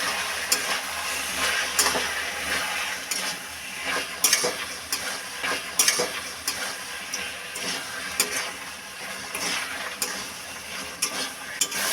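Taro leaves cooking down with turmeric, chili powder, salt and a little sugar in a pan, a dense continuous sizzle broken by repeated spatula scrapes and clicks, close and loud with no talk.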